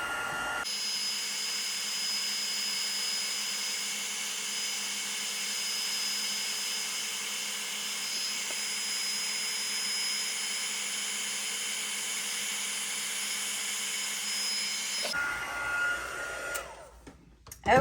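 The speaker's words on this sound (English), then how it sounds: "heat tool heat up just a bit, and then we're going to start heating it up" A heat embossing tool blows hot air in a steady, loud whoosh with a faint high whine, running continuously for about fifteen seconds before cutting off, followed by brief handling clatter.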